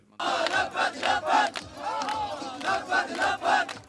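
Crowd celebrating in Damascus, Syria, chants and cheers in loud rhythmic bursts, many voices shouting together in a pulsing pattern that repeats several times after a brief quiet start.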